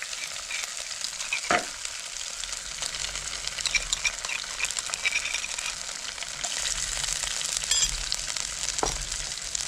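Crushed ginger, garlic and shallots sauté with curry leaves in hot oil for a fish curry, a steady close sizzle with occasional sharp spoon scrapes against the pan.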